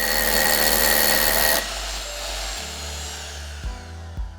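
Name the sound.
drilling a hole for resin anchor capsule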